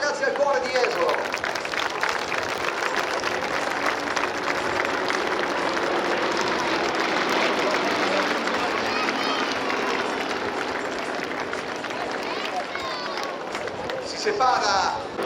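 A large crowd claps and cheers at the Jesolo Air Show, with dense continuous applause under an announcer's voice and open outdoor ambience.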